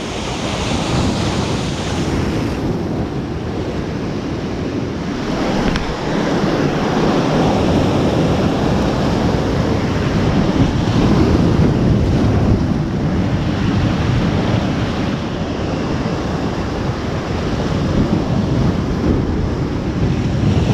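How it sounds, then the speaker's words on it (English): Powerful ocean surf breaks on the shore in a relentless swell, a continuous loud roar of crashing waves mixed with gusty wind buffeting the microphone. "You get the odd wave come in, which is just mental. So much power behind it."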